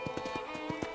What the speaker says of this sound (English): I picked out a fine horse for you